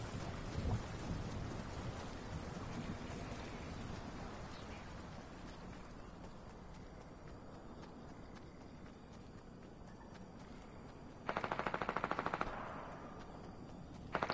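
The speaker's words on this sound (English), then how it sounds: "There's a freaking rapid SMG over there." Rapid submachine gun fire in a Fortnite-style battle royale match, a dense crackle of bursts through the first half, thinning out, then a sharp loud burst near the end.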